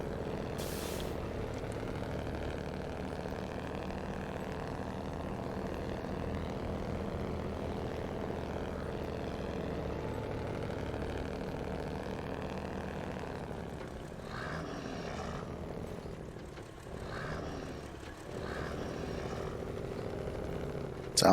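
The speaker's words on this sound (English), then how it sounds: "Sounds a lot like an old Detroit engine." A truck engine idles with a steady, droning rumble, likened to an old Detroit engine, heard close and continuous, briefly dipping and surging near the end, with no talking.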